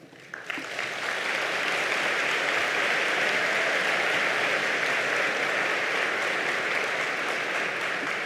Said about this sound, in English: let's give them a heartfelt applause